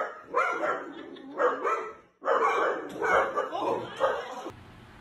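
Scared dogs bark angrily in repeated bursts, loud and close, with a short pause near the middle before the barking resumes.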